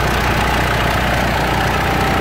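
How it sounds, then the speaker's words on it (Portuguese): A Mitsubishi Triton pickup engine idles close by with a steady, rumbling, even throb that does not change across a short stretch. "Motor da Triton funcionando."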